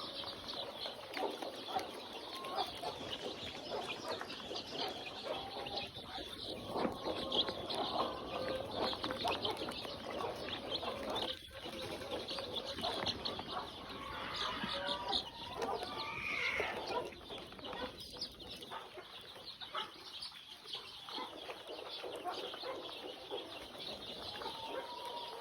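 Young chicks in a poultry house just after a Gumboro vaccine, a dense continuous chorus of peeping and clucking with occasional wing flaps, moderately near and steady throughout.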